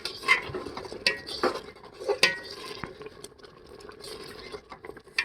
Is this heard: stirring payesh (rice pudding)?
yes